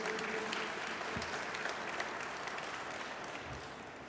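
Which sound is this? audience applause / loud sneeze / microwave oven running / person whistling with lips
audience applause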